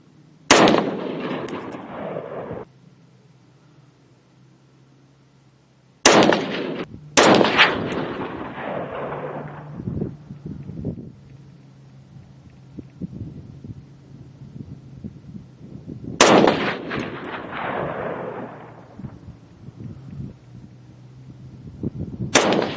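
A semi-automatic SKS rifle built as a designated marksman rifle fires several loud shots at an outdoor range. Each crack rolls off into a long echoing tail, coming as single shots or close pairs separated by quiet pauses.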